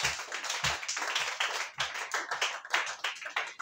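A church congregation claps together in a steady rhythm to acclaim the Lord during a worship service, a dense and fairly close burst of applause with no talking over it.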